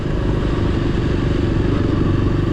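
A motorbike cruises steadily along a road on a cool, rainy day, its engine a close, constant rumble with wind noise and no break in the sound.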